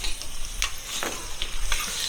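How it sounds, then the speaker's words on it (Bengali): Marinated meat sizzling in a hot kadai over a clay stove, steady crackling fry with a few sharp spatter bursts and stirring scrapes, close and moderately loud. "এবার ম্যারিনেট করা মাংসটা কড়াইয়ের মধ্যে দিয়ে দেবো।"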